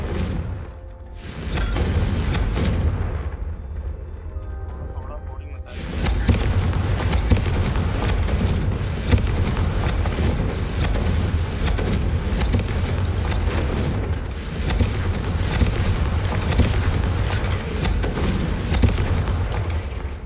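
Confringo fire spell explosions in the video game Hogwarts Legacy make a dense, continuous roar of deep booms and crackling blasts that carries almost the whole time, with a short lull early on.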